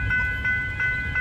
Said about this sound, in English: Alright, here's the train.